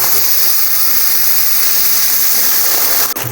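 A paste of ginger, cumin, coriander and green chili sizzles in hot oil with a loud, continuous, close frying hiss, broken once by a brief clatter.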